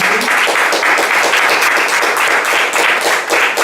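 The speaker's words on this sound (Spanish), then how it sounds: "Dale un fuerte aplauso al Señor." A church congregation claps loudly and continuously in a thick, even wash of hands for a few seconds, with no one speaking over it.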